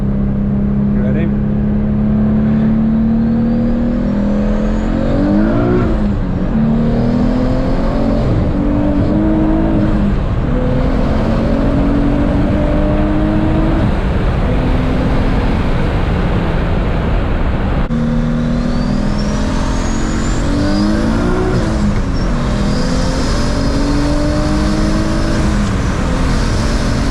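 Twin-turbo Nissan 350Z pulling hard through the gears, a loud, close engine note rising in repeated sweeps with brief shift breaks, under wind and road roar, with voices talking over it.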